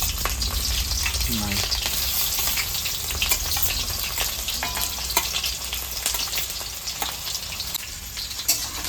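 Spices tempering in hot oil for a broiler chicken curry, a loud, steady crackling sizzle with small pops and occasional stirring scrapes, close up.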